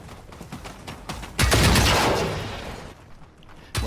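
Loud gunfire in the video game Generation Zero as weapons are hip-fired at machines at close range: scattered shots, then a dense, sustained burst of fire that slowly fades.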